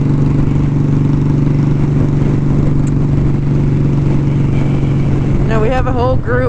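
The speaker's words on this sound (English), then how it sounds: "We got two more motorcycles behind us." Motorcycles, including a Harley Road Glide, ride on the road in a group, their engines a loud, steady, close drone throughout, with a voice speaking briefly near the end.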